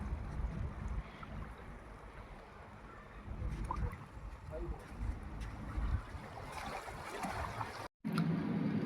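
A glass-bottom boat travels between islands in Lakshadweep, from Agatti toward Kalpeni, with a steady engine and water rumble mixed with wind buffeting the microphone. The sound continues throughout and cuts out briefly near the end.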